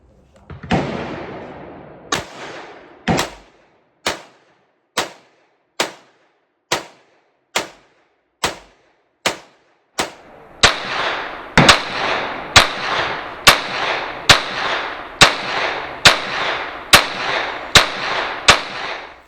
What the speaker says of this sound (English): where I'm shooting both guns